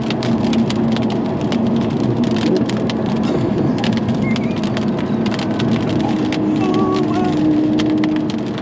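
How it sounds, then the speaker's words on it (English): Heavy rain drums steadily on a 2016 Audi R8 V10 Plus driving through a downpour and floods, a loud, continuous hiss with dense tapping and a low road rumble underneath. "I can't believe it's raining"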